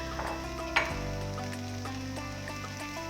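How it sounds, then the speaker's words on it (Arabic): Chopped spinach with onion frying in a pan, a soft continuous sizzle with a faint clink near the start, steady and close with no talking. "ونخليهم حتى هما يتشحروا مع البصله"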